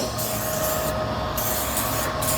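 Anti-spatter spray is hissed from an aerosol can onto a welding table in a few continuous close bursts with short pauses between them.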